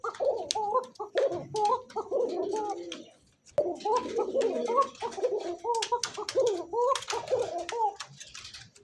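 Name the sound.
koka pigeon calling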